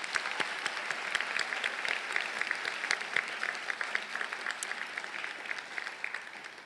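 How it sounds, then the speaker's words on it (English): Audience at a graduate hooding ceremony applauding honorees, a continuous crackle of many hands clapping with distinct individual claps popping out, moderately loud and steady throughout. "Let's give them a round of applause."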